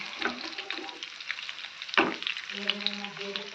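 Fish sizzles and crackles steadily in a frying pan, close and moderately loud, with one sharp clatter partway through and a faint low hum toward the end.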